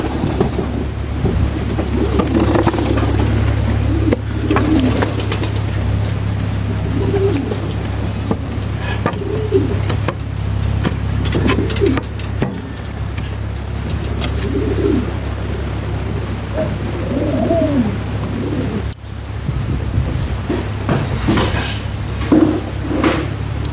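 Pigeons cooing inside a crowded pigeon house where birds occupy the nesting boxes, repeated soft throaty coos scattered across a steady loud low hum, with occasional knocks and rustles.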